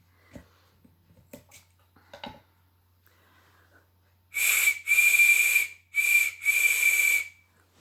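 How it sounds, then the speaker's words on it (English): A homemade whistle carved from a carrot gives four shrill, breathy blasts in two pairs near the end, close and loud, after faint handling noises and quiet shuffling. "there's your little carrot whistle"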